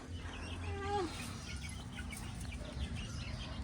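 Chickens clucking softly in a new coop, a brief rising squawk standing out over a low, steady farmyard background.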